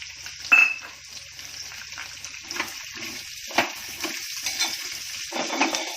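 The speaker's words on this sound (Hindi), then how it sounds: "अब उसमें प्याज डाल रही हूँ" Onions are added to hot oil in a pan for a cashew masala curry. A soft sizzle runs throughout with scattered stirring scrapes and the clink of a utensil against the pan, with no talking.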